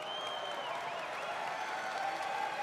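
A large audience applauding at the BlizzCon stream, steady dense clapping from a crowd heard at a distance, faint, with a thin tonal line running beneath.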